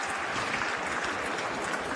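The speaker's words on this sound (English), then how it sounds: "you can hear the applause from the Australian fans down below us in the members' stand" Australian fans in the members' stand at a women's Test cricket match applaud in a steady, even wash of clapping, heard from above at moderate loudness with no talk over it.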